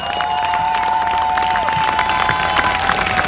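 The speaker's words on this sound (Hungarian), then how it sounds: "Egy hatalmas tapsot kérünk Lénárd Lacinak" Concert audience at a memorial evening for Lénárd Laci breaks into loud, sustained applause and cheering, dense clapping with shouts filling the whole stretch and no break.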